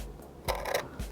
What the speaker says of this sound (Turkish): Maket bıçağımla önce bir çizik atıyorum.